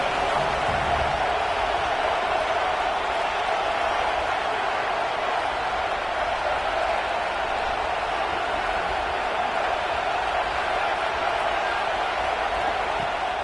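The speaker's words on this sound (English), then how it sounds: "this crowd trying to help keep them there" Stadium crowd at a Washington versus Maryland football game, a steady, dense roar of cheering and noise that holds at an even level throughout, with no clear voice over it.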